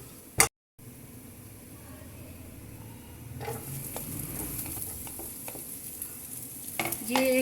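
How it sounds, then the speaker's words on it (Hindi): Chopped garlic frying in oil in a pan for chicken keema do pyaza, a steady close sizzle with occasional scraping stir strokes that grow busier toward the end. "बस इसको थोड़ा सा इसमें फ्राई करना है ऑयल में"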